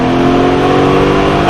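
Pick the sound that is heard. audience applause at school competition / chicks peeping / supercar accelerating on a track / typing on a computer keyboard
supercar accelerating on a track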